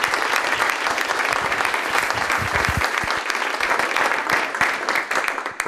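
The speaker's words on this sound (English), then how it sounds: "Let's give him a round of applause" An audience at a bike summit keynote gives the speaker a round of applause, dense sustained clapping from many hands that fills the room and holds steady for several seconds.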